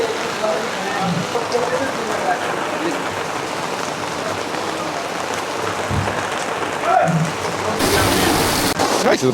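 Heavy rain pours down in a dense, steady roar during flooding in Varanasi, with a voice briefly speaking somewhere beneath the downpour.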